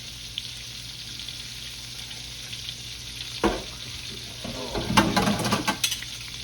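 Shrimp deep-frying in oil, a faint steady sizzle that swells louder near the end with crackling and light clinks of kitchen utensils, no talk.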